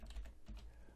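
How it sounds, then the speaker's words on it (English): Typing on a computer keyboard while coding, a short burst of quick, soft key taps in an uneven rhythm, faint and close, lasting about a second. "I could type set mode"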